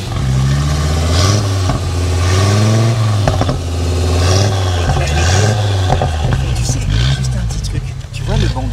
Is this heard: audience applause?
no